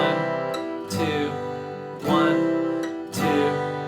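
An acoustic guitar strums bluegrass rhythm chords for the tune Blackberry Blossom in a 2/4 pulse, four clear strums ringing out with sustained chord tones between them, close and fairly quiet.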